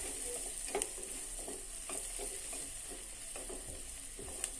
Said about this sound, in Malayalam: നന്നായി വഴന്ന് വന്ന ഈ ഉള്ളിലേക്ക് നമുക്ക് അല്പം ഇഞ്ചി അല്പം വെളുത്തുള്ളി പേസ്റ്റ് ചേർത്ത് കൊടുക്കാം